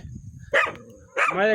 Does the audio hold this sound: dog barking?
yes